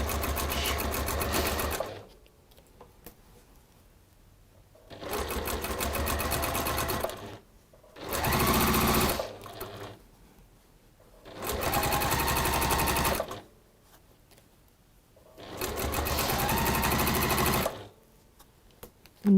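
A sewing machine top-stitches fabric seams about 1/8 inch from the edge, running in four loud, steady bursts of rapid stitching separated by short quiet pauses.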